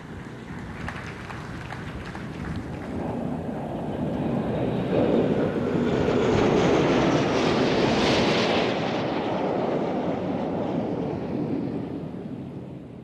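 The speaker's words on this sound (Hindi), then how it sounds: "आसमान को चीरते आ रहा है MiG-29 के लड़ाकू विमानों का यह दस्ता" A formation of MiG-29 fighter jets passes overhead at a naval carrier commissioning ceremony, a broad roaring rush that swells to a peak midway and slowly fades, with wind buffeting the microphone.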